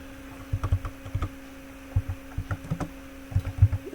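Keys clacking on a computer keyboard during an Excel data-validation walkthrough, irregular bursts of close, crisp taps with short pauses between, steady low hum underneath.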